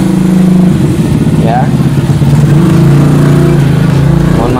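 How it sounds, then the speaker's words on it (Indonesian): Motorcycle engines rumble and rev close by in front of a house at dusk, a steady loud drone of passing bikes under a man's speech. "banyak motor jadi suaranya agak ya"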